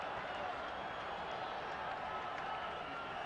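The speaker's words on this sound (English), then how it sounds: "Crowd is alive here now at Candlestick Park in San Francisco." Football crowd at Candlestick Park in San Francisco during a 1979 49ers–Rams game, a steady, distant roar of cheering spectators, even and unbroken throughout.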